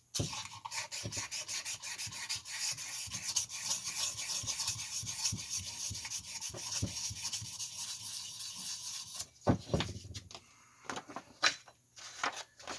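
Steady back-and-forth rasping of 400-grit sandpaper rubbed over a Stihl MS261 chainsaw part during a rebuild, close and continuous, then a few separate scrapes and knocks near the end.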